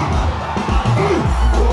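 Packed crowd at a Women's Day event in Kakumiro cheering and shouting, loud overlapping whoops and voices rising in bursts close by.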